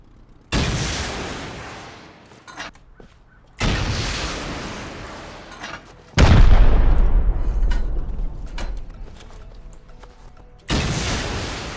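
Rocket blasts in the survival game Rust, four loud booming explosions spaced a few seconds apart, each followed by a decaying rumble, with the heaviest third blast rolling on for several seconds.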